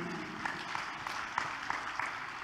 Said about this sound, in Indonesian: Boleh tepuk tangan untuk DPD RI?